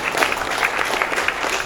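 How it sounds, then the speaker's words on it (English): A comedy club audience claps and cheers in a steady, dense wash of applause, fairly close and loud, with no speech over it. "Give yourselves a round of applause for coming out tonight."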